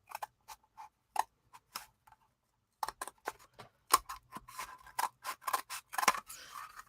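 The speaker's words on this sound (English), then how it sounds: "And we're going to cut this one down the lines." Scissors cutting material along marked lines while building a cigar box ring holder, giving sharp separate snips that start sparse and become quicker and denser toward the end, close and clear with no talk.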